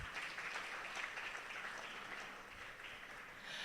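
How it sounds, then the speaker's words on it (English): Audience applause at a talk event on youth and African economic development, a faint, distant wash of many hands clapping that runs steadily for a few seconds without speech. "A round of applause for him, please."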